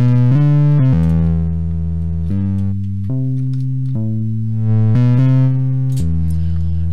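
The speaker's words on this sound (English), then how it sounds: "and then the distortion" A loud, buzzy synth line in Propellerhead Reason 8.3 plays a sequence of sustained distorted notes, harsh and upfront, alone without voices.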